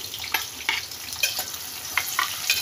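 Onions frying in a pot (degchi) for a mutton and chicken dish, a light steady sizzle with soft crackles and a few brief stir or scrape accents spread over a couple of seconds, no talk.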